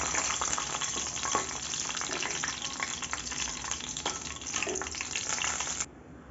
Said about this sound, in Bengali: তেলটা আমার গরম হয়ে গেছে, এবার আমি এর মধ্যে দিয়ে দেব 3টে শুকনো লঙ্কা, 2টো তেজপাতা, এগুলো একটু নেড়ে চেড়ে নেব।